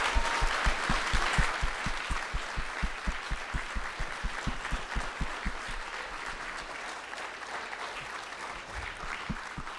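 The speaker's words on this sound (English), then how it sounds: "let's give everybody a warm applause" A forum audience of candidates' supporters claps warmly, steady dense applause that starts strong and tapers slightly over ten seconds, with no voices over it.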